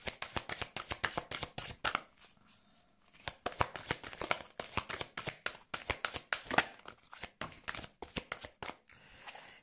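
Tarot cards being shuffled by hand: a steady run of quick, crisp riffling flicks, close and fairly soft, with a brief pause partway through and no talking.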